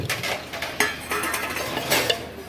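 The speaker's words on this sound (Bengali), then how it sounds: "এবার আমি এতে আলুটাও ঢেলে দেবো" Potatoes are poured into a clay pot of mutton, bringing clinks of a utensil against the pot and soft stirring over a light sizzle, with no voices.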